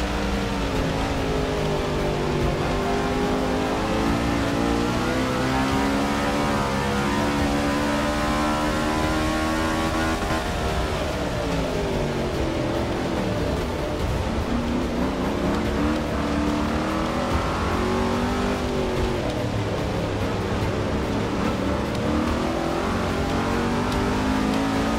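A NASCAR stock car in the video game Forza Motorsport 6 roars continuously through a launch, its engine note climbing and dipping as it revs and shifts, loud and sustained with no talking.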